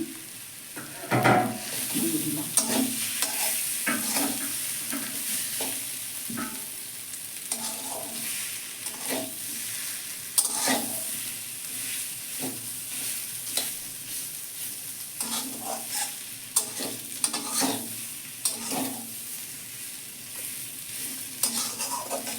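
Potato pieces coated with salt and oil frying in a pan, a constant close sizzle with repeated rhythmic stirring scrapes across the whole stretch, no talking.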